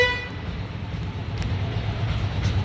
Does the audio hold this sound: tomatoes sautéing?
no